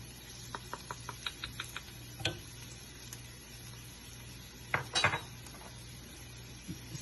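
A spoon clinks and scrapes against a pan as chilli powder and paneer are stirred together: a quick run of light, close taps early on, then a few louder scrapes, all over a low steady hum.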